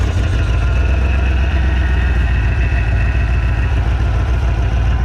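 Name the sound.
Chevrolet Vortec 5.7 350 engine running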